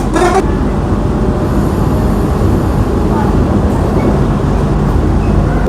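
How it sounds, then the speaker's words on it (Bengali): An AC local train on the Ranaghat–Sealdah line runs between Sodepur and Dum Dum in West Bengal, giving a steady, loud, unbroken rumble of wheels and carriage throughout. "সোদপুর স্টেশন ছেড়ে ট্রেন এখন চলেছে দমদমের দিকে"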